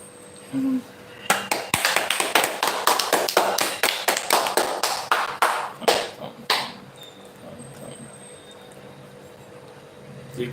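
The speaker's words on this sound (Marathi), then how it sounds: "चला जोरदार टाळ्या वाजल्या पाहिजेत" Scattered hand claps from a small gathering break out after a short pause, a quick uneven burst lasting several seconds before thinning out and stopping, with a voice heard briefly at the start.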